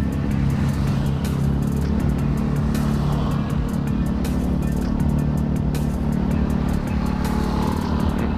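The engine of a moving Honda Beat FI motorcycle roars loud and steady, mixed with wind rush from a ride near the Cirata dam. The drone is continuous and close.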